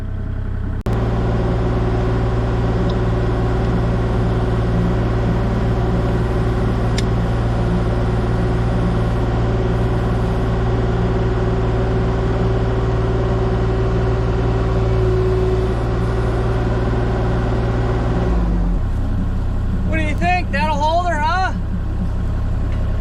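An old beater car with a broken, detached exhaust revs hard, giving a loud, raw, deep rumble that drones on steadily, then cuts off abruptly near the end before someone briefly speaks.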